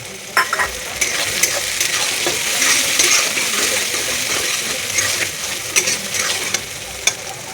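Tomato hits a pan of browned onions and fries with a steady hiss, while a utensil scrapes and clinks against the metal at irregular intervals, close and moderately loud.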